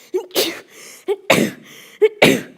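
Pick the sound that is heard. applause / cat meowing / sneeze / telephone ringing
sneeze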